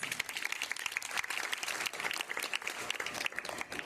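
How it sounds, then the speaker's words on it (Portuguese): A church congregation applauds at a Pentecost service, with moderately quiet, busy clapping from many hands that continues evenly for a few seconds. "Pode aplaudir a poderosa palavra de Deus."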